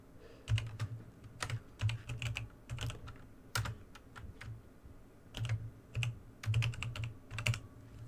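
Fingers tap a computer keyboard in irregular bursts of close, crisp keystrokes with short pauses between flurries, and no one speaks.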